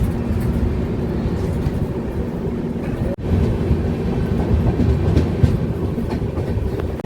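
A train stands at a station in Odisha, its steady low rumble and mechanical hum loud and continuous, with faint rail clatter and a brief cut partway through.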